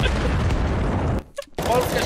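Gunfire in the Counter-Strike video game, a dense burst of rapid shots with heavy low thump, a brief near-silent gap, then firing resumes, with a commentator's voice partly heard.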